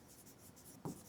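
A pen scratches on paper, a faint, short stroke followed by a slightly louder mark, heard close in a quiet room.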